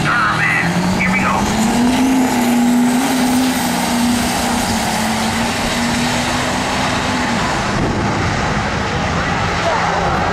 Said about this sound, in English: And we have the triple turbo Duramax.